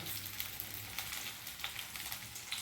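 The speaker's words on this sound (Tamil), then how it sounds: "வெங்காயம் இந்த அளவுக்கு வதங்கிடுச்சு." Onions sauté in a pan for mint chutney, giving a steady, soft sizzle and crackle with faint stirring, with no voices.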